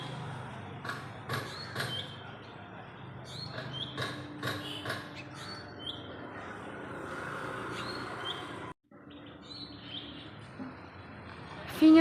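Birds chirp in scattered short calls over a quiet outdoor background, with a few faint knocks and rustles in between.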